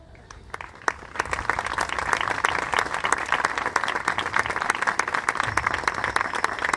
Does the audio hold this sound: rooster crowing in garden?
no